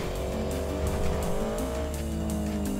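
Engine noise from a racing motorbike in Grand Theft Auto 5, a steady mid-pitched drone with faint tire squeal, heard close and continuous without talk.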